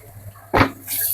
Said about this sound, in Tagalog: Hugasan ulit.